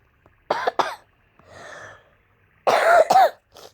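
Two bursts of harsh, close coughing, a couple of sharp hacks each, separated by a softer raspy breath; no talking.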